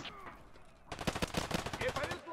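Rapid shotgun blasts ring out in the Escape from Tarkov: Arena shooter: a burst of close, loud shots in quick succession after a quieter lead-in with faint voices.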